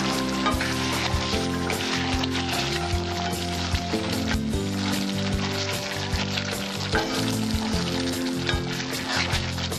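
A spoonful of ghee sizzles and fries steadily in a pan while an egg masala curry cooks, a close, continuous crackle with quiet background music and no talk.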